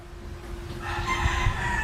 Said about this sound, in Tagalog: Maririnig mo yung mga manok sa labas,